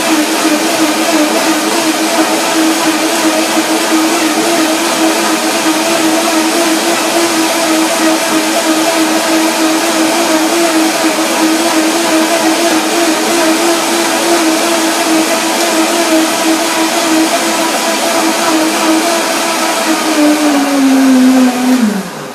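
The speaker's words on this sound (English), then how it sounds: "First the blender dance." A kitchen blender whirs steadily at high speed for about twenty seconds, loud and close, blending a creamy cashew sesame dressing, then the motor's pitch drops as it winds down at the end.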